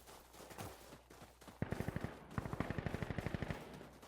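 Rapid automatic gunfire from the video game Insurgency: Sandstorm, a long evenly spaced burst of close, loud shots after a few scattered earlier sounds, with no voices.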